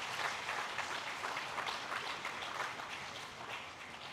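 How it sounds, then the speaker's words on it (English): Steady applause from the audience at a conference inauguration ceremony greets a guest, many hands clapping evenly at a faint level throughout. "Give a big applause to the great man."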